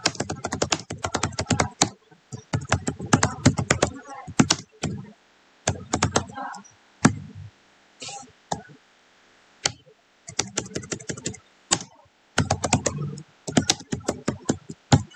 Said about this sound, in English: so let me type some input